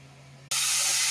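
Masoor dal poured into hot oil tempered with dry red chilli, bay leaf, panch phoron, fennel, cumin and reddened onion, bursting into a sudden loud, steady sizzling hiss after a quiet low hum.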